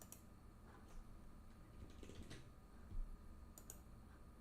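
Names are typed on a computer keyboard during a game stream, quiet scattered key clicks in short bursts, faint and close, without talk.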